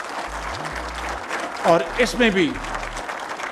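Audience applause during a Pakistani government press event on electricity price cuts, a broad steady wash of clapping that continues under someone speaking in Urdu.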